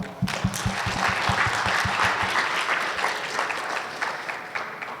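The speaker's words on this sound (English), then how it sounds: "Let's give a round of applause to the author" Applause from a conference audience at an IEEE VIS visualization event fills the room, steady dense clapping throughout with a few louder hand claps near the start and no talk over it.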